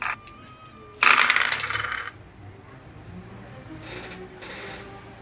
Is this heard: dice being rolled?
yes